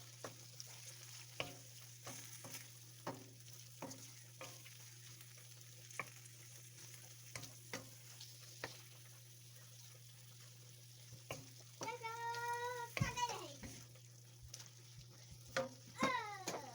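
Ground turkey, shrimp and pasta with Cajun seasoning are stirred in a pan: regular utensil taps and scrapes over a quiet sizzle and a low steady hum, with brief voice sounds near the end.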